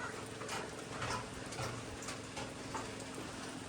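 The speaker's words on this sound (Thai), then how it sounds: "ฝนตก แต่ก็ตกบ่แห้งปานใดนะ" Rain falling outdoors at a rural Thai house, a steady soft hiss of drops with faint scattered taps, fairly quiet and with no talk.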